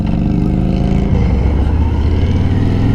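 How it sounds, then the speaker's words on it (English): A 2020 Harley-Davidson Street Glide cruises along a road with a loud, steady, low engine rumble that shifts pitch partway through, mixed with rushing wind noise. "it's probably the last time I'll ride a 2020 Street Glide"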